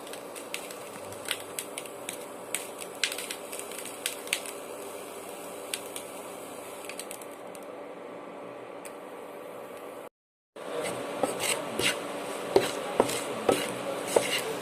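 Jackfruit seed mixture stirred in a pot as chilli powder and turmeric are worked in, giving a steady run of small spoon ticks and scrapes against the metal, with a brief silent gap partway before the clinks resume slightly louder.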